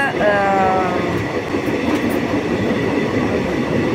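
A passenger train runs on rails between Howrah and Jasidih, a continuous loud rumble with rhythmic wheel clatter and a brief high squeal early on, steady throughout.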